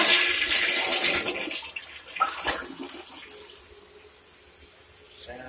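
A newly plumbed toilet in a home under construction flushes in a loud rushing gush that peaks early, then drains and fades into a quieter trickle as the tank refills, with no talking.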